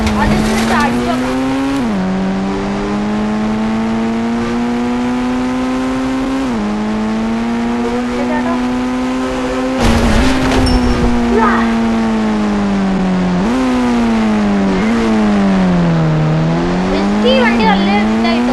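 Car engine in the Indian Bikes Driving 3D mobile game, a loud sustained synthetic drone whose pitch steps up and down through gear changes, with a brief tire-squeal burst midway and a voice talking over it.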